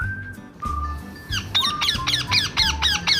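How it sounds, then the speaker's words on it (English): A parrot squawks in a rapid run of harsh, sharply pitched calls, loud and close, repeating several times in a steady rhythm after a short faint call at the start. "Parrot. Yes, you're right. Bird. Parrot."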